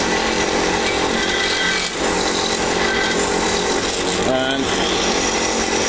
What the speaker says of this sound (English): I've got basically a flexible shaft coming out of my little cheapy drill press